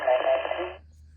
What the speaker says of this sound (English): I'm picking up a repeater.